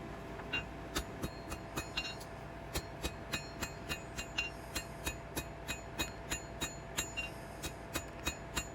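Hand forging a pair of tongs, a hammer striking hot metal on an anvil while the hinge boss and bit are worked and drawn out, in a steady run of sharp ringing blows roughly every third of a second, close and clear.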